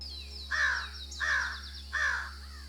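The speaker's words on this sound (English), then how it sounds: "Jungle crows dominate the area, sometimes harassing pedestrians during nesting season" Jungle crows caw in an urban area of Tokyo near Akihabara, three loud, harsh calls spaced about evenly apart, close by, over a steady low hum and faint higher tones.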